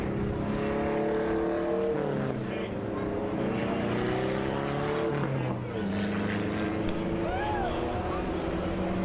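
Race cars of the New England Allison Legacy Series at Waterford Speedbowl accelerate off turn 4 on a restart, a loud, continuous blend of engines with rising and shifting pitch and no break in the roar.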